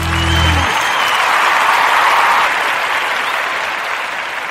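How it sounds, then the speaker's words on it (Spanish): Applause sound effect played on a Spanish-language radio show, a dense burst of crowd clapping that starts loud and slowly thins out, with a brief tone at the very start. "me reciben ahora con aplausos. Eso es lo bueno de nuestros efectos de sonido"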